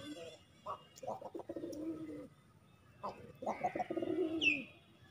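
Pet pigeons coo close by during hand feeding, several soft, throaty rolling calls in two clear bursts separated by a short pause, with a faint higher chirp near the end.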